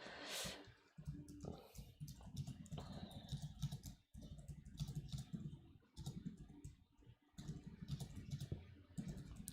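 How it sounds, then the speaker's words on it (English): Fingers type on a computer keyboard in bursts of rapid, soft clicking and tapping, with brief pauses between runs of keystrokes, close and fairly quiet. "Let me know if you hear my keyboard and if it's annoying."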